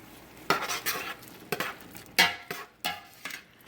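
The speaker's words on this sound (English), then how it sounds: "Let me mix it all up really good." A utensil scrapes and clatters in a pan while ghost pepper chicken stir fry is mixed, a series of sharp, close strokes in an uneven rhythm with faint sizzling between them.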